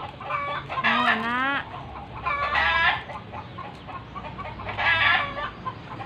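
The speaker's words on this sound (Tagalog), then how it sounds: "Dami din kaming manok dire." Chickens cluck close by as a rooster crows several times, long wavering calls repeating across the stretch over a noisy rural background.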